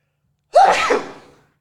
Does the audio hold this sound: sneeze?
yes